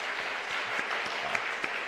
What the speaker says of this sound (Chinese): 所以我们再一次拍手，谢谢我们的男诗班。